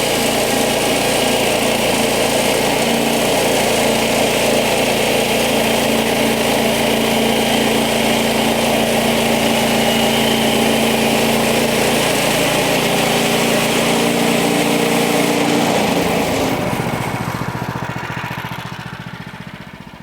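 A power saw runs continuously while cutting 2x8 lumber down to 2x6 for a tiny house build, a loud, steady engine-like whine with a buzzing drone that holds for about sixteen seconds before winding down and fading.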